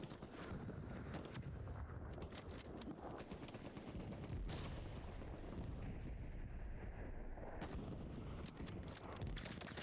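Distant gunfire and rocket blasts rumble almost without pause in the World War II shooter Hell Let Loose, a dense, continuous battlefield wash with scattered sharper reports and no voices.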